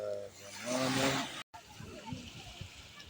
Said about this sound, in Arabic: دابا سبحان الله العظيم شوفوا كيفاش عمر بالمواج